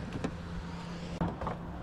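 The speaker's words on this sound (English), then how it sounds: "Car starts right up" 2011 Chevy Impala, which had stalled on the highway with a no-crank fault, its engine catching and settling into a steady low idle hum, with a short clunk near the end.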